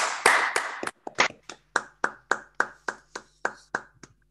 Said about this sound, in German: Und einen kleinen Applaus.